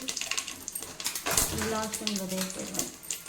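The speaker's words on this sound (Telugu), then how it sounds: "పువ్వు, చెక్క, లవంగాలు అన్నీ వేసి ఈవెన్గా ఫ్రై అయ్యేటట్టు చూసుకోవాలి" Whole spices (mace, cinnamon and cloves) sizzle steadily in hot oil for biryani, a close crackling hiss with occasional stirring and a faint voice in the background.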